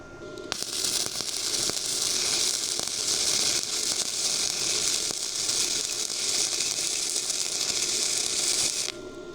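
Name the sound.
welding metal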